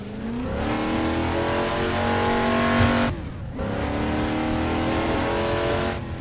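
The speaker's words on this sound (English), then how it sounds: "just turn up your speakers for a second and take a listen to this damn V8" 1966 Ford Mustang Fastback V8 driven downhill on a touge road in Assetto Corsa, its engine loud and close, revving hard through rising gears, with a brief dip between shifts and no talking.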